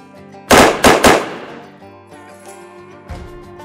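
Three loud, close gunshots ring out in quick succession, each a sharp crack with a fading tail, followed by quieter ambience and a faint later thud.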